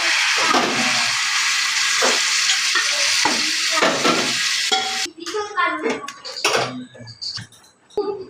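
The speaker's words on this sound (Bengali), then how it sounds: "মাংসটা সেদ্ধ করে যে জলটা বেরিয়েছিল সেই সেদ্ধ জলটা এবার দিয়ে দেবো" Goat-meat stock hits a kadhai of frying mutton with a loud, continuous sizzle, then the hiss drops away into close clinks and scrapes of a spoon stirring against the pan.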